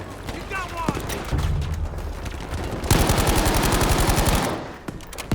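Battlefield V gunfire: scattered shots at first, then a long, loud burst of rapid automatic fire. A voice shouts briefly over the shooting, which then cuts off and leaves a few faint closing sounds.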